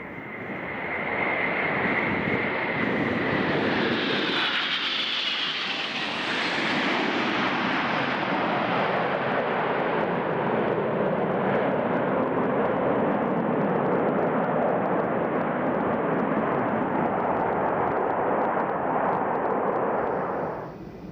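Concorde supersonic airliner arriving to land at dusk at JFK after a flight from Washington: a loud, sustained jet roar with a high whine that sweeps down early, then a broad rushing rumble that holds steady throughout.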